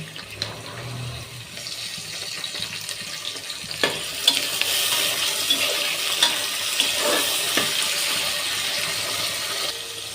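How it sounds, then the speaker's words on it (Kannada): Chickpeas tipped into hot oil with onion already fried in the pan give a steady, loud sizzle for the full ten seconds, with a few sharp clicks and scrapes of stirring and no talking. "ಕಡಲೆಕಾಳು ಹಾಕ್ತಾಯಿದ್ದೀನಿ"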